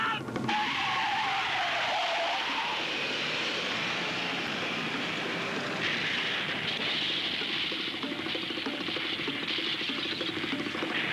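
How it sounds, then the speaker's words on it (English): An old car skids off the road, a long continuous loud screech of tires with roaring noise running throughout, no speech. "we're going off the road"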